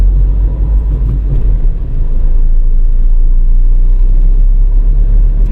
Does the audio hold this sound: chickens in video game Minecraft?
no